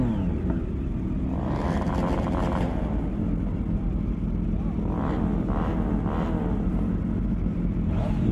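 A motorcycle engine runs steadily as a ride begins on the road in Mumbai, a constant low drone with a few swells of revving and wind, while people talk over it.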